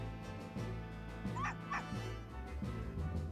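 An aggressive dog barks in the game Professor Layton vs Phoenix Wright, a pair of sharp yips near the middle ringing out over steady game music and a low hum.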